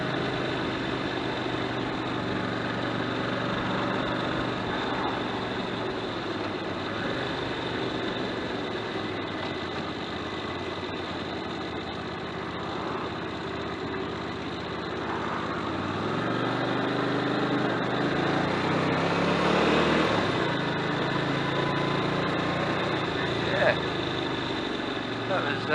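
A motorbike engine drones steadily while riding home, close and continuous, with its pitch shifting slightly partway through; loud road and wind rumble runs underneath the whole time.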